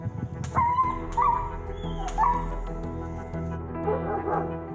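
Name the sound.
dog in distress, whimpering and barking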